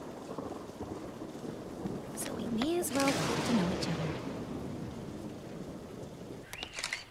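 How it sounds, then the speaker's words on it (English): Thunder and rain from a storm in the video game Paper Trail, a steady rain hiss with a low rumble swelling midway, while a person talks over it. "I was, until this storm started. Now, I guess we're stuck here until the rain clears."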